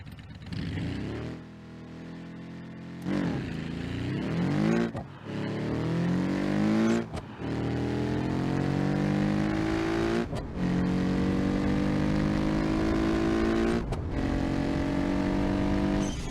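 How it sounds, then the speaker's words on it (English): A turbocharged car engine in BeamNG.Drive revs hard and climbs through several gears, each shift marked by a brief drop before the loud, rising pitch returns with turbo whine. "It's got amazing turbo noises."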